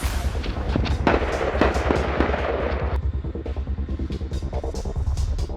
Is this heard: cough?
no